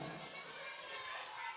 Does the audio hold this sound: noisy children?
yes